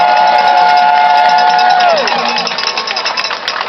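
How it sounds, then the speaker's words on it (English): A loud outdoor crowd at a political rally in Lafayette Park, Washington DC, cheers and whoops, with a long sustained whistle or horn tone that drops off, followed by rougher clapping and shouting. "Don't they deserve a round of applause?"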